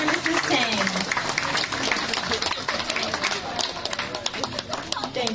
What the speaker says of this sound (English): Another round of applause for Mr. and Mrs. Tang.